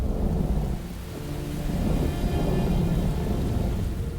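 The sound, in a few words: heavy rain pouring down, with thunder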